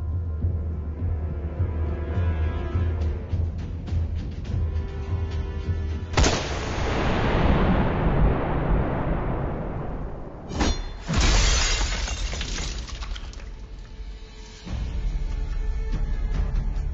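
Several gunshots strike bulletproof glass, each loud crack followed by a long shattering, crackling burst, with quieter rumbling between the impacts.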